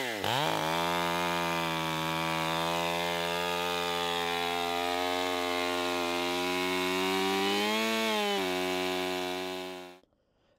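A chainsaw runs continuously at high revs, cutting through a large tree stump to take firewood-length rounds. The steady loud whine dips briefly near the end, then stops abruptly.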